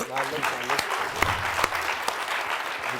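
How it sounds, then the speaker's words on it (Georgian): A crowd claps steadily and loudly throughout at a television game show, with voices mixed in under the applause. "აპლოდისმენტები"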